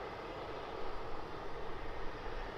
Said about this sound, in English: And the Emirates 777